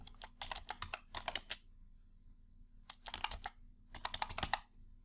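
Several quick bursts of typing on a computer keyboard, close and fairly quiet, with short gaps between the rapid keystroke runs and no talk.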